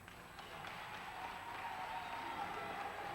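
Crowd applause fills the gym at a girls' high school basketball game between NPHS and Boyertown, a steady wash of distant clapping that holds evenly throughout, with faint voices and commentary underneath.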